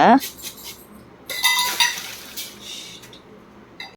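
Mustard seeds rattle and a jar clinks while being mixed in a bottle, with bursts of sharp clattering and scattering grains against a quiet background, close up.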